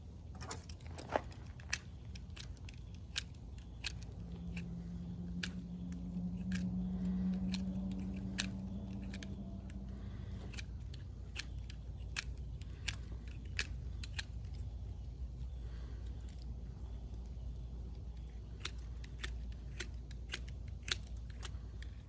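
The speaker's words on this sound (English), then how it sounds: "Now, let's cut a flat here and a flat there." A knife shaves flats into a wooden stick for bushcraft tongs, giving a run of sharp, close clicks and small scraping cuts over a quiet low background hum.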